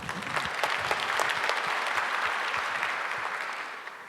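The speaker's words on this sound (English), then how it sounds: "it's definitely worth clapping for." Sustained audience applause at a public event with an Artemis II crew in Ottawa, a thick, even patter of many hands clapping close by that gradually eases off toward the end.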